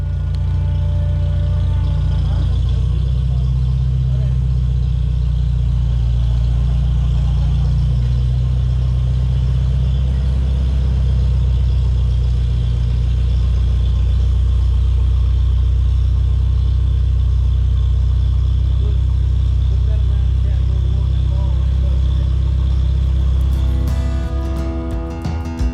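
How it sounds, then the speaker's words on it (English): A farm tractor's engine runs at a steady low rumbling idle for a long stretch, close and loud, easing off near the end, with no speech. "We'll get the tractor hooked up"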